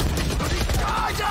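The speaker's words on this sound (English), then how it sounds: "this is a crazy gunfire right here." Gunfire from the tactical shooter Valorant in a professional VCT 2021 Challengers Korea match, a loud, dense burst of shots and clattering effects with no pauses.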